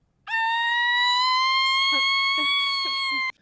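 A voice imitates a police siren, a sustained wailing tone that rises slightly and holds, with faint background sounds underneath, ending abruptly.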